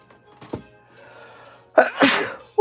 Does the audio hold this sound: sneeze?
yes